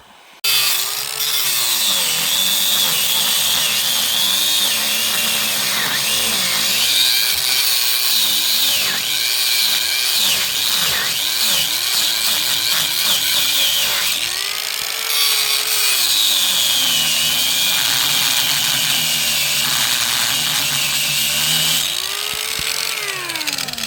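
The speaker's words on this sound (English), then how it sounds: "But this bolt has to be cut." Electric power tool grinding through a stubborn bolt on a fuel trailer, a loud continuous metallic whine with pitch swooping up and down as the load changes, running steadily for over twenty seconds with no talk.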